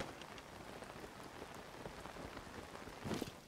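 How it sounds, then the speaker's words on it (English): Rain pattering on a paraglider in Zelda: Tears of the Kingdom, a soft, steady patter of drops heard alone throughout, with a slightly louder flurry near the end. "you can hear the rain hit your paraglider. Like the little pitter-patter of it"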